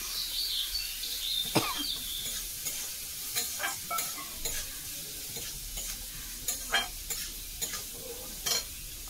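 Onion frying in a pan with a little turmeric and salt for khichuri, stirred now and then, giving a faint steady sizzle with scraping utensil clicks and short knocks scattered throughout.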